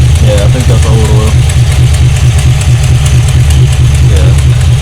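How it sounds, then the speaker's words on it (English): A 1978 Malibu car engine idles loudly and steadily close by, a low continuous rumble with a brief voice over it. "the car's running pretty smooth"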